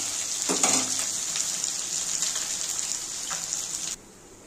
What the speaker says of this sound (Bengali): দেখো মাছটা ভাজা হয়ে গেছে, এবার আমি তুলে নেব।